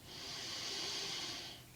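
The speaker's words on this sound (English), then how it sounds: "breathing in through the nose" A single slow, quiet inhale through the nose during a yoga breathing practice, an airy hiss that swells and fades over under two seconds, close and alone.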